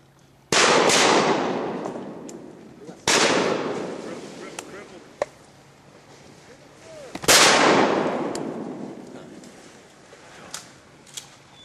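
Three loud shotgun blasts during a duck hunt in Arkansas, spaced a few seconds apart, each trailing off in a long outdoor echo.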